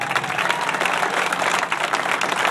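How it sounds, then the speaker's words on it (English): A crowd claps and cheers for the tournament winner at a fishing tournament's final-day weigh-in in Green Bay, a thick, continuous wash of applause throughout. "give him a round of applause"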